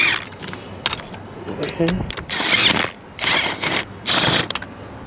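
A ratchet wrench starts the thermostat housing bolts on a 2013 Chevrolet Silverado Duramax LML, with close, loud bursts of rapid clicking separated by short pauses and a brief spoken word near the start.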